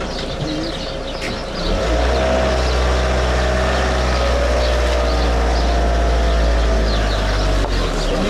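A car engine idles and revs steadily close by while being parked, a deep continuous rumble that swells after a moment and holds, with faint background sounds and no clear handbrake click.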